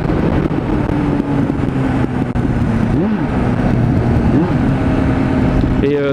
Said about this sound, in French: Au niveau des vitesses, ça passe tout seul quoi. Vous entendez, il n'y a pas d'à-coup.